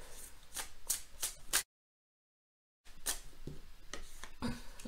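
Nicoletta Ceccoli tarot cards are shuffled by hand, a run of crisp riffling flicks, then a moment of silence, then more shuffling, close and clear with no voice.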